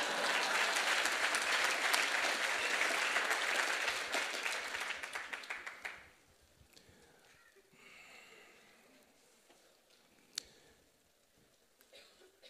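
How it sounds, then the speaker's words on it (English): Dense audience applause at a 50th anniversary celebration fills the first half, then fades out abruptly, leaving quiet room noise with a faint voice and a single sharp tick. "Give her a round of applause."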